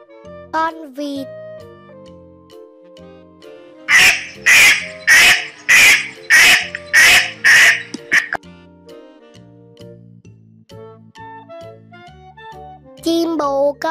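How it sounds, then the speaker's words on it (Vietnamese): A duck quacks in a cheerful children's song about farm animals, giving about eight loud, evenly spaced quacks in a row over soft background music. Brief children's voices come before and after the quacks. "Con vịt."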